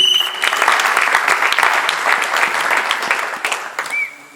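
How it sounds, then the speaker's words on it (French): Wedding congregation in a church clapping loudly and steadily, dense applause sustained throughout before tapering off at the end. "Acclamons très fort le Seigneur."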